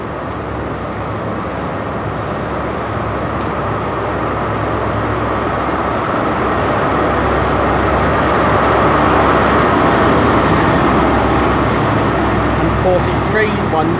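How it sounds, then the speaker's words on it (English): An HST passenger train from Penzance to London Paddington departs Taunton station, power car 43024 at the front, giving a steady loud rumble that builds gradually, with someone talking over it. "departing out 2 minutes late is the 1422 service to London Paddington from Penzance. 43024 is the power car at the front of this"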